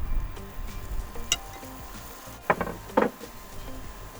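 Onions sauteing in butter in a pan give a soft, steady sizzle with a few sharper crackles and pops, quiet and close, in a small van kitchen.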